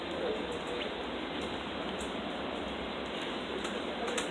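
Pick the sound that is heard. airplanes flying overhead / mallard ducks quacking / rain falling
rain falling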